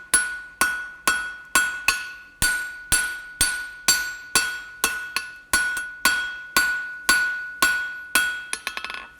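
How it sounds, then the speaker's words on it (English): A hammer strikes a steel eye hook point on an anvil in about eighteen sharp, ringing blows at a steady pace, each with a bright metallic ring, ending in a quick flurry of lighter taps, close and without talk. "change the angle of my hammer, come in flatter, and then turn it through 90 degrees and forge that material in"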